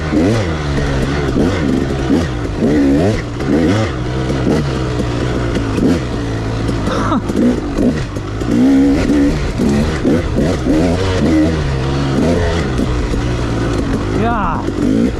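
A 2016 KTM 300 XC two-stroke dirt bike engine revs hard and close in repeated rising and falling bursts, buzzy and vibrating, with a rider's voice briefly audible over the engine.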